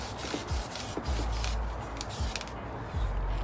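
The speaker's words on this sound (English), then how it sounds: "then we're going to go ahead and spray paint" Spray can paint hissing onto the brake calipers of a BMW F32 428i, sounding as short, close bursts with rubbing and handling noises between them and no voices.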